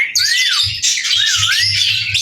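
A bird squawks repeatedly in harsh, rising calls close by, with low rustling and tapping sounds underneath and no talking.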